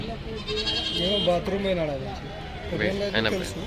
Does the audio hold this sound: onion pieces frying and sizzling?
no